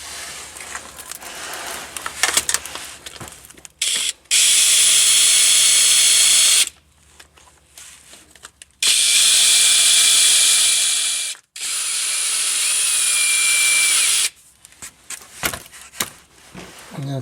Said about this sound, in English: just going to use my cordless drill here to get those bolts out